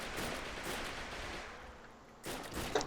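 Rapid gunfire in the World War II shooter game Heroes and Generals, a dense rattling volley of shots that pauses briefly and then resumes, fairly loud and alone.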